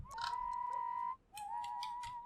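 Two Sims characters in The Sims 2 whistle in sync, a steady sustained tone that breaks briefly and resumes, fairly faint with light game sounds behind.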